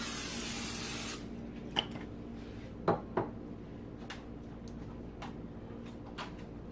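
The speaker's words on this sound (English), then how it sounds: "Go ahead and spray the liner." A steady hiss of cooking spray on an oven liner for about a second, followed by quiet kitchen clinks and light taps.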